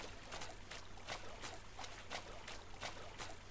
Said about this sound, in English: I like how I'm walking on a pipe, but it's still making the splashing sounds